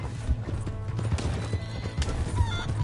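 In Red Dead Redemption 2, a horse gallops with rapid, close clip-clop hoofbeats on the ground and lets out a whinny, with shouted voices briefly over it.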